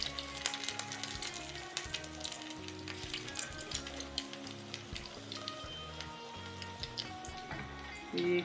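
A crumb tikki fries in hot oil, a quiet crackling sizzle of scattered pops and bubbling throughout, with a low rhythmic thump in the background.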